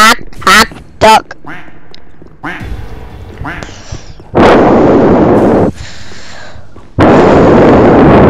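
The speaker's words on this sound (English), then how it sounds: "A duck, quack, quack," A cartoonish duck from the video game Nico's Nextbots quacks in a few sharp bursts, then loud blasting noises erupt, with a player's excited voice shouting over the game sounds.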